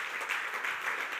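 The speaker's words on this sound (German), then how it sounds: "Geben wir ihnen einen lauten Applaus aus dem Kauchofen raus." A church audience applauding, a brief, steady burst of many hands clapping at moderate loudness with no voices.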